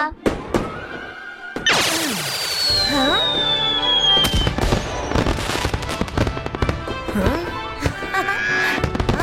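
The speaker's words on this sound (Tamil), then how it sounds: "பட்டாசு ரொம்ப கவனமா பார்த்து வெடிக்கணும்" Diwali firecrackers bang and crackle in quick bursts while a rocket whistles and sweeps overhead; excited voices shout over the noise.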